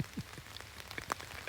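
Rain during a hunt from a tree stand, scattered raindrops tapping nearby surfaces in quick irregular patters, faint and close, with no voices.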